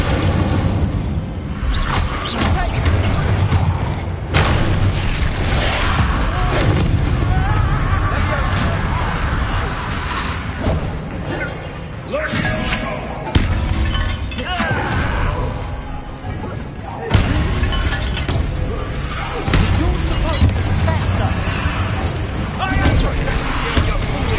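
A crashing, booming burst from the Incendio fire spell in Hogwarts Legacy, played on PlayStation 5, set amid dense, continuous combat noise, with voices talking over it throughout.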